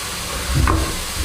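Onions cooking in a pan with a pinch of salt, for a chicken gravy, giving a continuous hiss and sizzle with a brief stirring scrape midway, close and steady, no voices.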